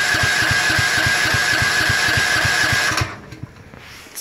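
A 9000W generator cranks with the choke on during cold weather, running its first time on gas: a loud, rapid rhythmic chugging turnover that stops abruptly after about three seconds, leaving faint quiet clicks.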